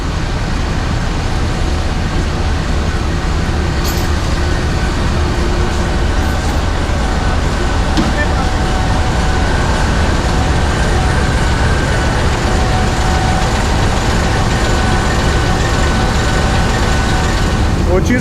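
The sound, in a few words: train locomotive running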